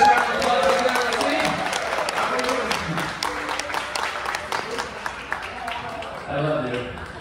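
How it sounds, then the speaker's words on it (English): Audience applause aboard the cruise ship Sky Princess during an onboard show at sea, a moderate crowd clapping steadily for several seconds with a voice or two rising faintly beneath it. "Please give these two hands a big round of applause."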